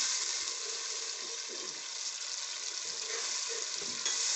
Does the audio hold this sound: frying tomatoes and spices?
yes